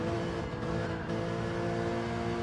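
A Porsche Cayman Cup race car on a circuit at Kyoto Driving Park, its engine droning loud and steady at high revs with a constant rumbling tone throughout, no voices over it.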